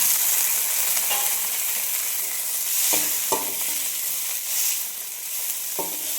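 A tomato sizzles in a pan while being stirred for a greens stir-fry, a steady frying hiss broken by several distinct scraping stirs, close and without speech.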